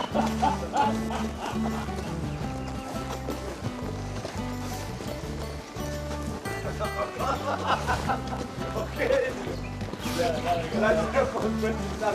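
Steady rhythmic horse hoofbeats clop along continuously, with people talking over them throughout.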